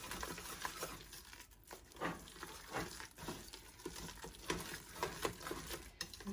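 Whisk stirring milk and butter into mashed potatoes, giving soft, irregular scraping and squelching strokes against the bowl, close but fairly quiet, alone.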